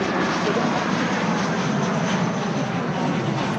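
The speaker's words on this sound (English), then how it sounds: "a LATAM, South American Airlines Boeing 767 freighter" A LATAM South American Airlines Boeing 767 freighter jet at Manchester Airport gives off a steady, loud broadband engine roar that holds constant throughout, with no talk over it.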